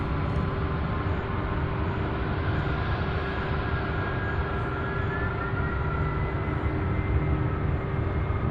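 A UPS Boeing 767 at Louisville International Airport, UPS Worldport, gives a steady, fairly distant jet engine roar with a faint rising whine, holding even and unbroken throughout.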